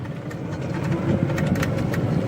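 A car engine in a racing video game holds a low, steady rumble with a slight rise as it is revved while brake boosting, heard alone and close.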